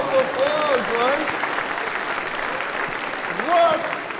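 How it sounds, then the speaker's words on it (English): A church congregation applauds during a homily, a steady crowd clapping for about four seconds with voices speaking over it. "Give a round of applause, right?"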